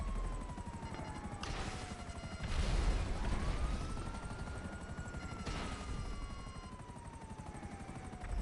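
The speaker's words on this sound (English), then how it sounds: "I'm in a helicopter." A helicopter in the video game GTA 5 drones steadily with a continuous rotor hum, joined by a rising and falling siren-like whine and a few bursts of noise.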